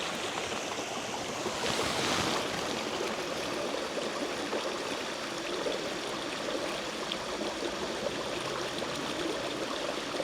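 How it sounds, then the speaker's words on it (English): A woodland stream at Werneth Low tumbles over a series of mini waterfalls, a steady, full rushing and splashing that carries on without pause and stays close and fairly loud. "Mini waterfall after mini waterfall."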